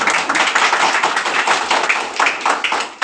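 An audience claps for a newly elected woman official at a ceremony, a close, dense patter of many hands with no voices over it.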